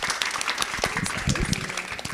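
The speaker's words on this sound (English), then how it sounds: "we're just gonna finish out with a heart-centered applause" Brief scattered clapping from a small audience at a women's community meetup panel, uneven and moderately quiet, with faint voices mixed in.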